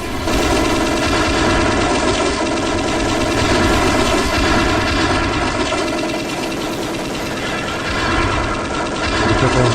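Sustained machine gun fire in a video game, dense rapid bursts continuing almost without pause at close, loud level alongside a droning engine-like hum.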